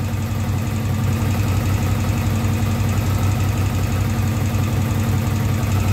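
A Honda Nighthawk motorcycle engine runs with its airbox removed on a parts bike, a steady, loud idle with an even low throb and no change in revs, with no one speaking.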